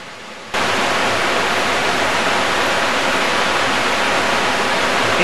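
Codfish Falls on the North Fork of the American River near Foresthill roars as a steady, loud broadband rush of falling water, starting abruptly after a brief quieter moment and continuing unbroken.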